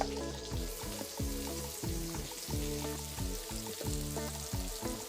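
Finely chopped onion frying in hot oil with curry leaves and green chillies, a dense steady sizzle close up, with a regular rhythmic scraping from stirring repeated roughly every second.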